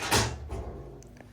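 A metal door on a Genmega ATM swings open with a loud clunk, followed by a softer rattle and a couple of small latch clicks as the bezel and vault doors are unlocked.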